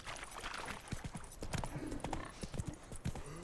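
Horse hooves clip-clop on the ground in Witcher 3, a steady, moderately close trotting rhythm of repeated clops with a faint whinny-like tone in the background.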